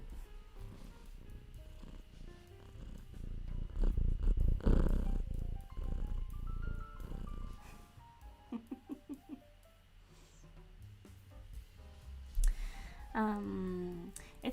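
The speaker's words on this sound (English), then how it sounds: "She's purring a lot." A cat purrs close by in a soft, rumbling, uneven stream during a cosy crafting session, with light handling noises and faint human sounds mixed in.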